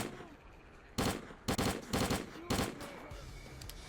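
Rapid bursts of automatic gunfire in the shooter S.T.A.L.K.E.R.: Clear Sky, four loud close volleys in quick succession against a murky ambient background.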